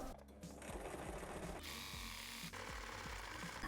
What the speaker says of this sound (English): I have my machine with a thin needle for thin fabrics